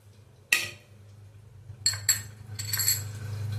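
Metal utensil stirring ghee and capsicum in a hot cooking pan, giving a sharp clink followed by several scraping, clattering strokes over a low hum.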